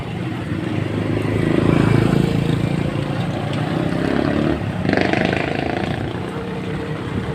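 A motorcycle carries riders to school in the rain, its steady engine drone and rushing road and rain noise filling the ride at close range, with a brief surge partway through.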